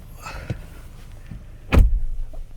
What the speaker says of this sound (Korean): 문을 열고요.